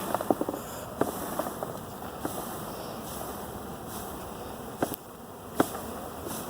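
A continuous drone of many buzzing honey bees from a swarm being put into a hive, with scattered clicks and knocks over the top.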